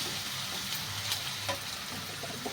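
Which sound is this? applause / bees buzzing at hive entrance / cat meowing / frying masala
frying masala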